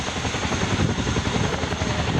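An RAF Chinook twin-rotor helicopter flying at a naval air station air day display, a loud, steady rotor and turbine roar with a continuous throbbing beat, close and heard alone.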